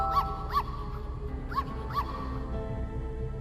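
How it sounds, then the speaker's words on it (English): A dog in the video game Murder on the Titanic gives four short, moderately close yips or barks in a loose rhythm over a quiet low hum. "Oh, there is a dog."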